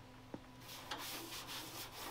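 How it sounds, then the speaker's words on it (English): Someone block-sands a car body by hand, using 320-grit sandpaper on a sanding block. Faint, close rasping strokes brush back and forth in a soft, uneven rhythm. "So I'm gonna block those out with some 320 on a block."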